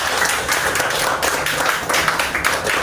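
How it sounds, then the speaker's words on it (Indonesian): Students clapping together in a classroom during a lesson, a steady dense patter of hands close by that runs the whole time with no pauses. "Tepuk tangan dulu untuk kita semua"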